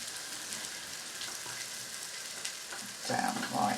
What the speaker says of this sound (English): We're just stir frying these to get them soft.